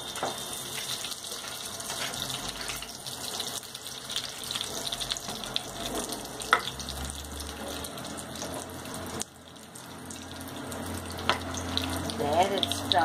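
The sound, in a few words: potatoes frying in hot oil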